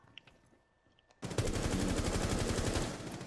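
Loud, dense automatic gunfire in a ranked tactical shooter match bursts in after a quiet moment, a rapid stream of close shots punched through a wall that continues steadily to the end.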